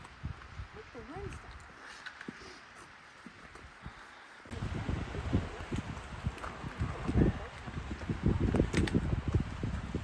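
Wind gusts outdoors, rumbling and rustling close to the microphone, growing noticeably louder and more buffeting halfway through, while people talk in the background.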